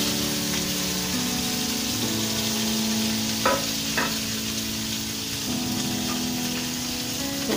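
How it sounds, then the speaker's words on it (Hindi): Kebabs with tomato, green chili and onion fry in a pan, giving a steady, close sizzle with a couple of brief stirring clatters partway through. "थोड़ा सा फ्राई कर लेते हैं।"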